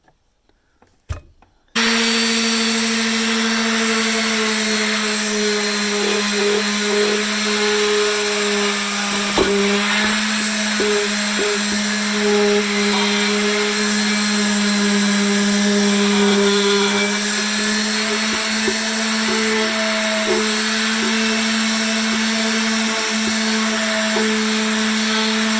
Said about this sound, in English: I've got it as clean as I can with the buffing wheel and a sander.